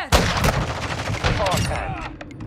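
Gunfire in the Call of Duty MWII deathmatch mode: a dense run of sharp, loud shots fired in quick succession, with bursts crowding one another across the whole moment and faint game voices underneath.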